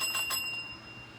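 A small handheld bell rings twice in quick succession near the start, close and bright, then its tone fades away over quiet room noise.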